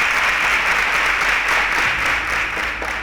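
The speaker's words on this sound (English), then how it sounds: "A round of applause for them." Loud, dense audience applause for student contestants on a Nigerian quiz show, continuous and close with a hiss-like wash of many hands, easing slightly toward the end.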